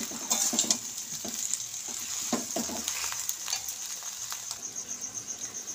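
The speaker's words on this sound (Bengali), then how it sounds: "আমার এই গুড় গরম হলেই গুড়ের জল বেরোবে। ভালোভাবে মিশিয়ে নেব।" Melting jaggery is stirred in a hot pan with no water added, giving a steady sizzle and frying crackle broken by scraping, patting stirring strokes, close and moderately loud.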